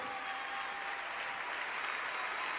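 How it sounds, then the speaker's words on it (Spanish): Steady, dense applause from a large concert audience at Luna Park, sustained and even throughout without pause. "Los despedimos con un fuerte aplauso"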